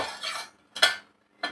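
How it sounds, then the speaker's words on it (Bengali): A steel plate clatters and scrapes close by in a kitchen, three short metallic bursts separated by brief silences, with no voices. "তো এবারে আমি স্টিলের একটা প্লেট নিয়ে নেব।"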